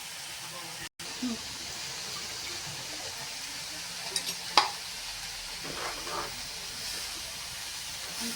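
Water is poured into a pan of cooking curry made with ground pigeon-pea pods and a little turmeric, giving a steady, moderate sizzle and hiss with faint stirring clinks and someone speaking over it.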